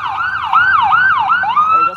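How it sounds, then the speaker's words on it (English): An ambulance siren wails up and down in a steady repeating cycle, loud and close, passing by an outdoor street gathering in Albuquerque, New Mexico. "I'll wait till this ambulance goes by."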